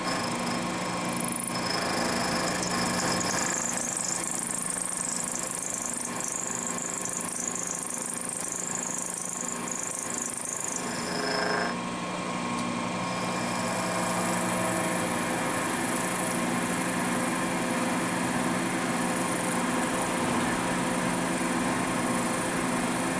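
A milling machine drives a high-flute-count end mill through a cutting pass on a steady rest part, giving a continuous loud mechanical drone and whine with a slight shift partway through, with no talking.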